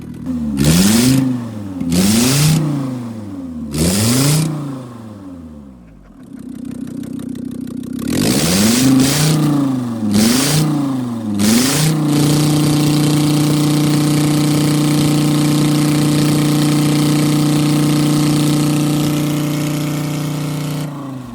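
A Nissan 350Z that has sat unused for years on four-year-old fuel: three sharp revs rising and falling, a pause, three more blips, then a steady loud idle alone.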